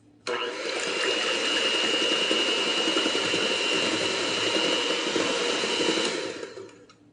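Electric mixer whirring steadily through German chocolate cake batter, switching on abruptly, running at constant speed for several seconds, then winding down.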